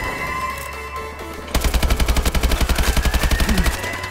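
AK-12 rifle fire in Call of Duty: Advanced Warfare, a rapid sustained automatic burst of about two seconds with evenly spaced shots, loud and close, following a quieter stretch of game ambience.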